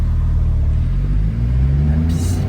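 A Smart Brabus with a replaced turbo drives along, its engine a loud, steady low rumble that holds close and continuous, with the pitch shifting slightly as it pulls.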